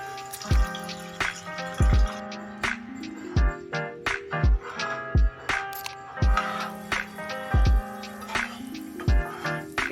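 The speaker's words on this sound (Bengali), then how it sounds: "এবার এর মধ্যে সামান্য জল অ্যাড করে দেব।" Water goes into a pan of fried masala for an egg and eggplant curry, making repeated wet drips and splashes in an uneven rhythm, close and fairly quiet.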